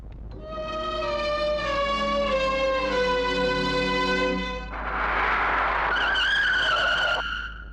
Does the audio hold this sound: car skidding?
yes